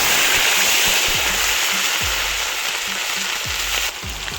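Onion paste sizzles loudly in hot oil with cinnamon, cardamom, cumin and cloves, a dense continuous frying hiss with occasional stirring scrapes.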